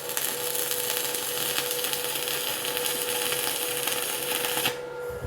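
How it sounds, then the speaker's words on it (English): Two metal pieces being welded together with a single bead down the seam, a steady close-up crackling hiss that runs unbroken for about five seconds and then cuts off abruptly. "I'm just going to be welding these two things together using the original just line down the middle"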